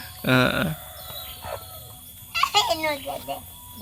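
Chickens on a home yard, one giving a loud harmonic crow or squawk near the start and another burst of clucking calls later, close by, with people talking in the background.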